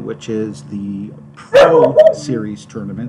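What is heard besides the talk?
dog barking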